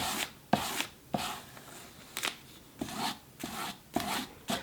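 A kitchen knife is drawn in repeated strokes across an abrasive sharpening stone, each pass a short, close scraping rasp with brief pauses between, about eight strokes in an even back-and-forth rhythm, no talking.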